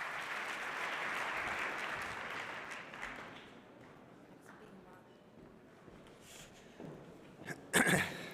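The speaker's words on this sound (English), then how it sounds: "Please give him a big round of applause" An audience at an energy award ceremony and evening reception applauds to welcome a speaker: sustained clapping at first that gradually thins and fades, then a few louder knocks and a voice near the end.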